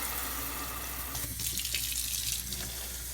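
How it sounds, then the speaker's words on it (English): Cold water gushes from a kitchen tap into a cooking pot, a steady close rushing stream whose splash changes tone partway through as the pot fills. "I'm going to fill this guy with some water."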